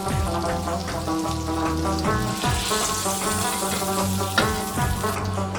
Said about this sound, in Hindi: इसको फ्राई होने देंगे।